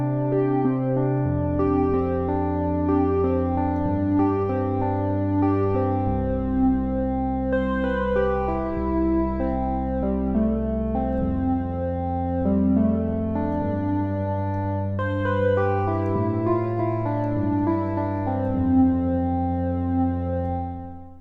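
Synthesizer pad patch on a Korg Prologue 8, sustained layered chords with slowly shifting harmonies, steady and full throughout, played alone without talk.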